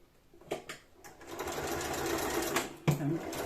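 A sewing machine runs steadily, stitching fabric for a bottle carrier, with a few quiet clicks at the start and a sharper knock near the end.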